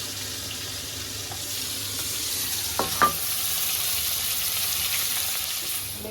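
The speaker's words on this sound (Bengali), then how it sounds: "ঢাকা দিয়ে দিয়ে ভাজছি মাছ" Magur catfish fries in oil in a covered pan over low heat, giving a steady, soft sizzling hiss, broken by a couple of brief clinks partway through.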